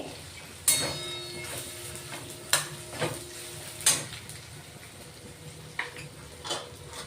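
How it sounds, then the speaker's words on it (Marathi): Spring onion sautéing on low heat with masala, sesame seeds and peanuts, with a faint sizzle beneath several sharp spoon knocks and scrapes against the pan, spaced irregularly. "मसाला टाकून घेतोय तीळ शेंगदाणे सर्व काही मसाले वापरलेत आपण याच्यात आता परतून घेऊ गॅस लो ठेवलाय"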